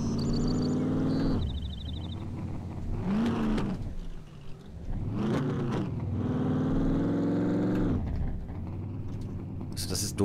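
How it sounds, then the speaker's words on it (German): Loud car engine from the survival video game SCUM, revving up and down in several surges as it is driven around, with a player talking over it. "dass man hier einfach so massiv laut ist, wenn man mit dem Auto rumfährt"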